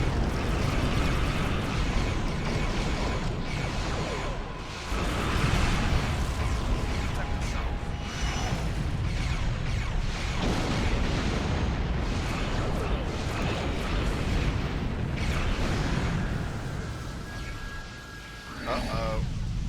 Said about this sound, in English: When all else fails, heavy plasma torpedoes.